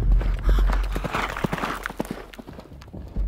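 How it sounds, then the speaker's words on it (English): Several horses of armed horsemen in a desert journey setting approach with a steady, close clip-clop of hooves, rhythmic and loud throughout, with no voices. "suddenly the neighing of horses woke him up"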